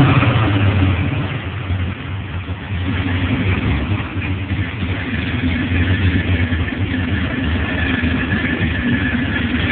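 A 2007 Ford Mustang Shelby GT with heavy modifications rumbles nearby at a loud, throaty idle, its engine swelling in a few light revs with a dip in the middle, and no one speaking over it.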